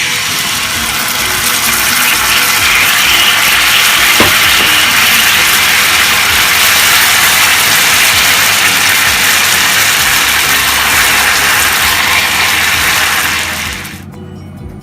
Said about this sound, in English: And now I'm ready to add the beautiful tare sauce